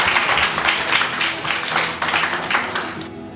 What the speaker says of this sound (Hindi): तालियों के साथ में स्वागत करेंगे